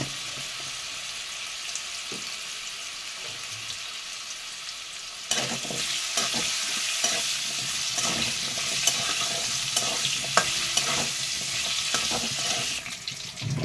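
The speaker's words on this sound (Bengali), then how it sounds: "দিয়ে আলুগুলো কিছুক্ষণ ধরে ভেজে নেব" Potatoes tossed with a little turmeric sizzle in a pan, quiet at first, then a louder burst of frying with stirring clatter and scraping that continues to the end.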